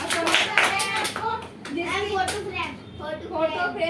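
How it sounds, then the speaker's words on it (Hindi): Children clapping together in a classroom, a brisk burst of many overlapping hand claps in the opening moments, followed by a teacher and kids speaking. "कार्तिक के लिए ताली बजाओ।"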